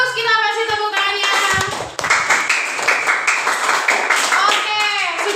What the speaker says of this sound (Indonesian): Oke, sudah bagus, kita kasih tepuk tangannya.